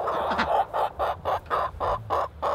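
A backyard flock of silkie and barred rock chickens with khaki Campbell ducks calls nearby in a fast, even run of about eight loud, clucking pulses.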